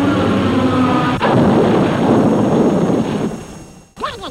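Cartoon bombs exploding in a Disney animated short, heavy booming blasts with a sharp new burst partway through, a rumbling roar that tails off, then a brief whistling cartoon sound effect at the end.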